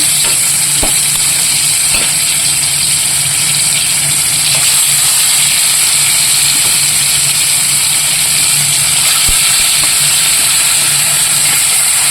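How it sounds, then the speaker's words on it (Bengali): Bhetki fish fries in hot oil in a home kitchen, giving a loud, steady, unbroken sizzle and hiss that runs throughout with no talk. "এদিকে তেল গরম হয়ে গেছে, মাছ ভেজে নিচ্ছি।"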